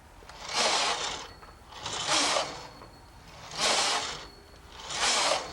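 A knitting machine carriage with a built-in knit leader slides back and forth across the needle bed in four sweeps, each a rising and falling mechanical rasp with faint clicks in between.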